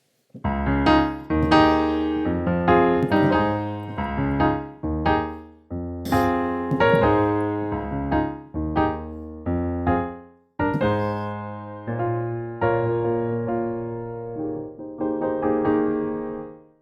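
Piano notes played in short, choppy phrases, clear and close, with brief pauses between groups of chords and no talking.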